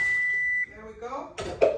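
A kitchen oven signals that preheating is done with a steady, high electronic beep lasting about half a second, followed by nearby talking.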